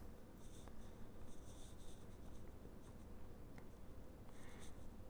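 Pen scratching across paper while drawing an angle for a trigonometry lesson, a soft continuous rubbing with short bursts of strokes over a low steady background hum.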